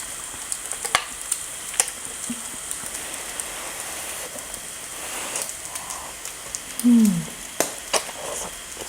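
Steady crackling sizzle of pork frying on a hot tabletop grill pan (Thai moo kratha), with occasional pops and a brief clink of utensils.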